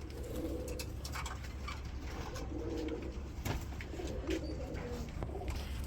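Bombay Lahori and Rajgolla pigeons cooing, with soft repeated low coos and a few light chirps over a constant rumbling background, close and steady throughout.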